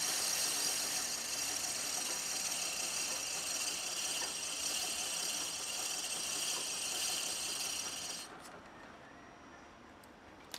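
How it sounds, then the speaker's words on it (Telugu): A gear-model 4-in-1 household sewing machine runs steadily while winding a bobbin, giving a continuous high whirring buzz that stops abruptly near the end, leaving quiet room tone with one small click. "ఇప్పుడు థ్రెడ్డింగ్ చేయాలంటే ఇప్పుడు చూడండి, బాబిన్ రిఫిలింగ్ చేయాలి మనం"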